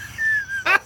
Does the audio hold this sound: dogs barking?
yes